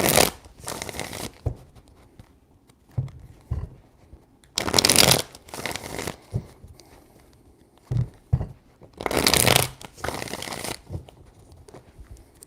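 Tarot cards are shuffled in three separate bursts of riffling and flapping, close and crisp, with quiet pauses between them. No one speaks.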